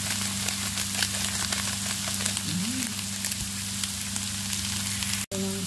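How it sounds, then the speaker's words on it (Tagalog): Green beans sautéing in olive oil with spices, salt and pepper, giving a continuous close sizzle and crackle in the pan, with a steady low hum behind it and a brief dropout near the end. "Ginisa lang sa olive oil."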